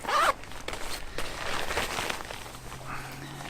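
A quick zipper pull on a down vest pocket rasps close by at the start, followed by soft rustling and handling of fabric.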